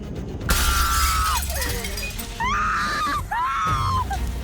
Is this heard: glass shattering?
yes